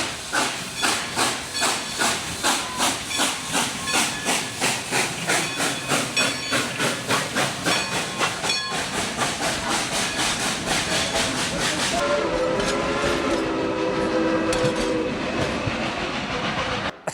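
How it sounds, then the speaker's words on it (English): The Dollywood steam train passes close by, puffing loud rhythmic chuffs over steady steam hiss and rail clatter, then fades into a continuous roar of hiss and wheel noise as it goes by. "let's catch the train as it goes by."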